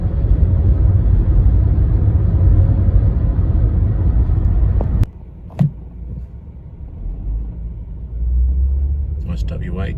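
A 1971 Chrysler New Yorker cruises down the road with a loud, steady low rumble that cuts out abruptly midway, leaving a quieter hum with a thump, before the drone builds again; voices talk over parts of it.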